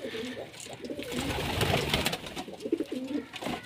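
Pigeons coo steadily among chickens, a soft rhythmic warbling repeated several times at close range over a low murmur of farmyard background.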